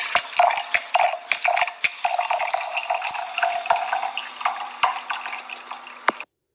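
Wine pours from a bottle through a needle-style wine preserver in a steady, gurgling liquid stream, with a few sharp clicks and taps over it, up close and alone, stopping abruptly near the end.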